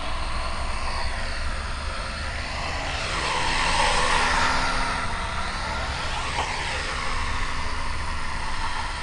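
A quadcopter drone flies outdoors at Lake Elsinore, its motors producing a continuous loud whirring drone that swells and fades slightly as it moves nearby, with no talk over it.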